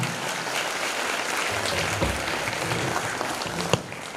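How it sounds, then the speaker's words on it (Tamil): Crowd applause at a student pattimandram debate event, a steady dense wash of clapping that holds evenly throughout, with a couple of louder thumps near the end. "கைதட்டுங்க சிவரஞ்சனி."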